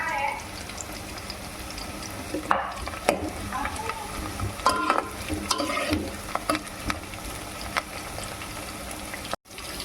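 Green chillies sizzle steadily in hot oil in a pan as a Sunday chicken curry gets started, with intermittent stirring scrapes and clinks over a continuous frying hiss.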